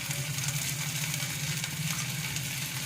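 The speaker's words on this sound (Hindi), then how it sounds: "अब मैं इन्हें डाल के भी अच्छे से फ्राई कर लेती हूँ।" Corn kernels frying in a pan with ginger-garlic paste, a steady close sizzle with a low hum beneath it and no pauses or voices throughout.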